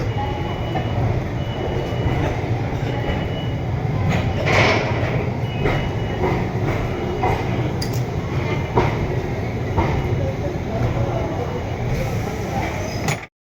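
A train with brand-new LHB coaches pulling out of Varanasi station, a continuous loud rumble with rhythmic clicks of wheels over rail joints, heard close from onboard.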